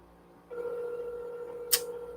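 A telephone line tone while placing a call back, a steady held tone starting abruptly and continuing, with a brief sharp click near the end; no one speaks.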